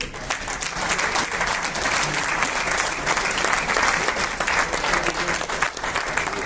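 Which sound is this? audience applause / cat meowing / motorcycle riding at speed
audience applause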